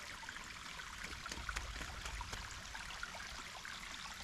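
Water trickles steadily through a leak in an unlined earthen dam, a continuous close, even wash of flowing water with no voices.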